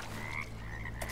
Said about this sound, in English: That's definitely a frog.